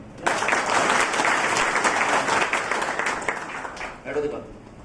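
Enthusiastic applause from a crowd, steady and dense for several seconds before tapering off, with a voice briefly heard at the end.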